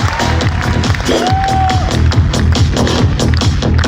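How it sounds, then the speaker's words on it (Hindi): Loud audience applause and cheering for a speaker at an AWPL business gathering, dense clapping and crowd noise with a brief whistle or whoop, voices mixed in. "मैं चाहूंगा सर के लिए जोरदार तालियां, श्री अनुज शर्मा सर का।"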